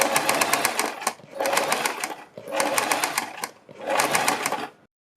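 A sewing machine stitches along the edges of fabric strips in four steady bursts of rapid, even needle clatter, with brief pauses between the runs.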